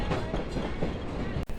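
A passenger train rolls along the rails, a dense, continuous rumble and rattle with faint clatter, heard from inside the cars and close by, with a brief dropout near the end.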